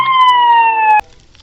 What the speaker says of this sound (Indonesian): truk pemadam kebakaran.